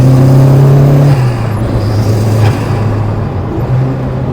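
Rally car engine pulling hard in third gear on a closed Alpine road, a loud sustained droning roar with a steady low tone that shifts pitch slightly as it accelerates.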